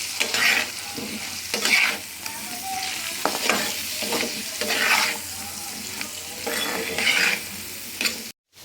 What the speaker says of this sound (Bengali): আমি আলুগুলোটা একটু ভেজে নিচ্ছি